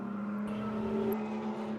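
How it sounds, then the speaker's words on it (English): Ford Mustang race car number 96, Primetime Motorsports, very noisy, passing the start-finish line during GT qualifying at Mid-Ohio; a steady loud engine drone with a strong low tone, held through the whole moment. "Tremendously noisy Ford Mustang, the number 96, comes through start finish"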